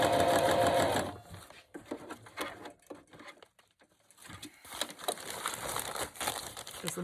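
A sewing machine stitches scrap fabric for a project bag in a loud, fast whirring burst, pauses amid fabric rustling and crinkling, then starts again with quicker rattling runs of stitching.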